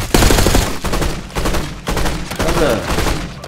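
Gunfire in Black Ops 6 multiplayer: loud, dense bursts of rapid shots come in repeated volleys across the whole stretch, with a few brief pauses between salvos.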